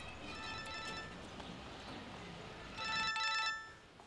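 A telephone rings in two bursts of electronic trilling tones, one early and one near the end, fairly faint over a steady hiss of background noise.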